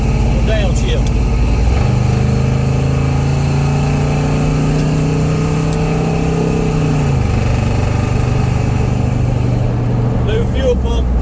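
A 1990 Chevy K1500 truck with a newly fitted fuel pump runs steadily after a downshift, a loud continuous engine drone that holds one pitch, steps up, then drops back, heard from inside the cab.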